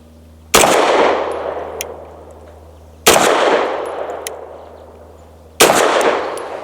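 Three loud, evenly spaced single pistol shots from a Tisas 1911 Duty B9R DS with a 5-inch barrel, firing SIG V-Crown 115 grain ammo, each sharp crack followed by a decaying echo on an outdoor range.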